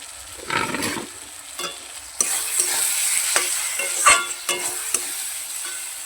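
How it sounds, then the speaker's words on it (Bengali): Meat sautéed and stirred in oil in a pan, with a loud scraping stir and steady sizzle, sharp utensil knocks against the pan, and frying growing louder partway through; no talking. "ভালো করে একটু কষিয়ে নেবো লাল লাল করে।"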